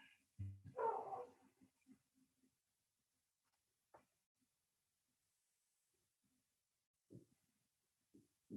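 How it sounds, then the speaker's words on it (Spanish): A dog out on the street barks in the distance, a few faint, scattered barks and yips separated by long quiet gaps. "¿Algún perro por ahí de fondo?"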